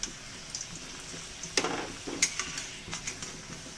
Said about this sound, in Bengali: আলুগুলো লাল লাল করে আমার ভাজা হয়ে গিয়েছে।